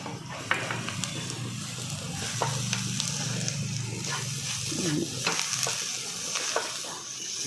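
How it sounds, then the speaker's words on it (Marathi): Spices with asafoetida, turmeric and crushed peanut powder sauté in a pan for a stuffed capsicum filling, giving a steady low sizzle with scraping stir strokes throughout, close and moderately loud, no talking. "सगळा मसाला हा छान परतून घ्यायचा आहे"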